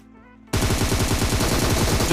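After a brief quiet moment, rapid automatic gunfire erupts in a battle royale video game, a dense close burst of shots that continues steadily to the end.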